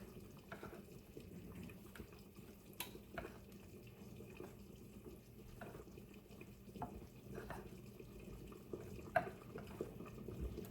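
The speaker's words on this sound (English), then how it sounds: "So I'm gonna pour some water in here." Tap water runs into a bowl of flour for a quick-bread dough in a home kitchen, a quiet, uneven trickle with small clinks and drips, faint and close, with no voices.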